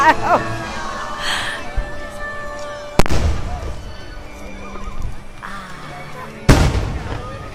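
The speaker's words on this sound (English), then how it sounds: "The Moana fireworks are awesome" The Moana fireworks show at Walt Disney World sets off two loud, sharp booms a few seconds apart, heard over a background of show music and crowd ambience.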